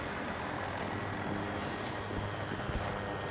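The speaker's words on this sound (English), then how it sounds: "Take the heli if you want it" Helicopter in Battlefield 2042, a steady rotor and engine drone filling the short stretch at constant loudness, with no talk over it.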